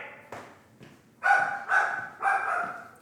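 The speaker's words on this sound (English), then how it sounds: "my fucking dog doesn't know how to shut up when the fucking gardener's here" A dog barks repeatedly at home while a gardener is present: a couple of softer woofs first, then three louder, fairly close barks in a quick, evenly spaced run.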